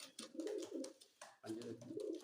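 A pigeon gives soft, throaty coos in two rounded bursts with a short gap, close by and fairly quiet.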